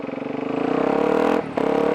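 Motorcycle pulling away from a stop with the clutch held in, engine note climbing steadily, then a short dip at a clutchless upshift before the revs rise again; close and loud.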